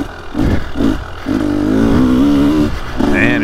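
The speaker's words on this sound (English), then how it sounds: "This FMF pipe and silencer, it's definitely noticeable." KTM 300SX two-stroke dirt bike fitted with an FMF Factory Fatty pipe and Powercore 2.1 Titan silencer, blipped in short revs and then held in a longer rising rev, loud and close with no talking.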